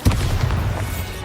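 A deep booming spell explosion from Bombarda in Hogwarts Legacy, a short rumbling blast with a dense, continuous low roar and no talking.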